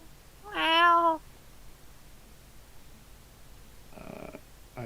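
A cat gives one clear, drawn-out meow close by, followed after a pause by a fainter, shorter second sound.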